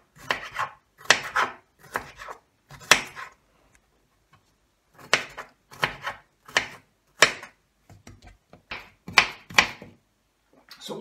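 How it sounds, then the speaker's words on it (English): Onions being chopped with a knife on a board, a run of sharp, close cutting taps in short bursts separated by brief pauses, heard alone without talk. "So we'll cut up the onions."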